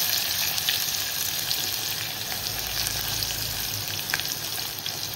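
Onion sizzles steadily in a pan with curry leaves, ginger, garlic and chili, a continuous bright frying hiss with occasional stirring clinks and no talking.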